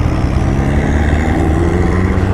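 A Harley-Davidson Sportster Iron 1200 motorcycle engine idles with a loud, rough, chugging rumble, steady throughout and close by, with no talking.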